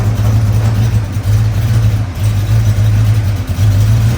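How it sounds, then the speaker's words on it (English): A 1973 Chevrolet K5 Blazer idles through a big MagnaFlow muffler with a catalytic converter, a steady, close, low and fairly quiet exhaust burble with a slight rhythmic throb and no talking. "Big, huge MagnaFlow muffler, quiet exhaust."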